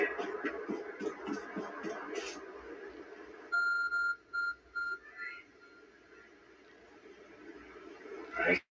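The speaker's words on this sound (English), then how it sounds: "There's a glowing, beeping object over there." Beeping from a glowing object in the Pokémon Legends Arceus video game, a short series of clear electronic beeps in the middle of the clip over quiet game background sound, with no talk.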